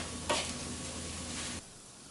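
Chopped onions with a pinch of salt fry in a hot pan, a close, even sizzle with a brief scrape of stirring near the start, cutting off sharply after about a second and a half.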